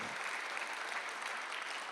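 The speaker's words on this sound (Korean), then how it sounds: "박수 한번 주세요." A church congregation claps in brief, dense, fairly distant applause during a Thanksgiving Sunday service.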